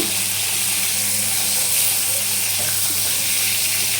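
Pointed gourds (potol) fry in oil with a steady, even sizzle and soft hiss that holds at one level throughout, close up, with no talk.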